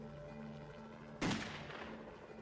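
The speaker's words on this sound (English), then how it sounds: "But Phillips carries on shooting" A single sharp gunshot cracks out at mid-distance over a low background hum during the North Hollywood shootout, decaying quickly.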